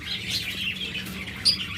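Caged pet birds such as lovebirds, budgerigars, Java sparrows and cockatiels chirping at a bird sale, a busy scatter of thin high tweets with one sharper call near the end, moderately close.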